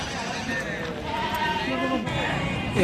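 Young local goats bleat repeatedly amid a busy crowd at the Rajarampalli animal market, their thin cries rising over constant background chatter of people nearby.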